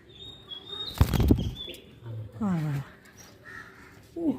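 A loud burst of wing flapping, then harsh crow caws, a few calls close by, mixed with people talking.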